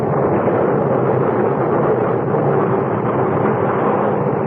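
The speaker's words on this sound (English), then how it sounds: "a great explosion blew her apart from stem to stern" A ship blows apart from stem to stern in a radio drama sound effect: a loud, sustained roaring blast that rumbles steadily for several seconds, with no voices over it.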